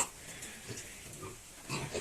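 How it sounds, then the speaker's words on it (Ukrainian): Piglets on a farm give soft, short grunts and snuffles in a few quiet bursts, faint and close by. "поросята всі гарненькі такі"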